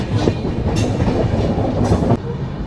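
Passenger train 12791 rolling on from Gyanpur Road gives a loud, close, continuous rumble with rhythmic clickety-clack of wheels over rail joints, without voices.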